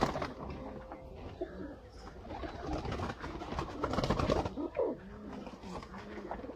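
A Sialkoti high flyer breeder pair of pigeons, a 35-wale anar bloodline, cooing in soft repeated low calls close by, with other faint bird sounds and background rustle throughout and no speech.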